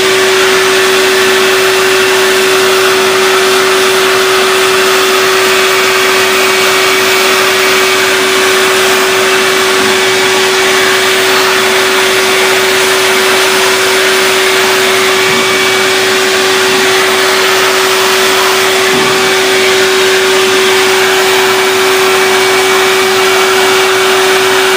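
A vacuum cleaner roars continuously and loudly at close range while it cleans a PC video card, holding a strong, steady whine with a constant tonal hum for the whole span.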